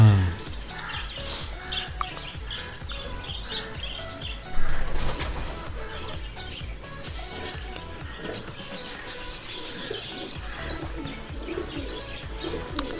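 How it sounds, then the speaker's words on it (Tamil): Pet lovebirds in a cage chirp and tweet continuously while wings flap in brief flurries, all mixed with background music and a busy, dense room sound. "இப்போ நம்ம வாங்கிட்டு வந்த குருவி, அதாவது பச்சீஸ் லவ் பேர்ட்ஸ் வந்து இப்போ அந்த கூண்டுக்குள்ளே நம்ம விட போகிறோம்"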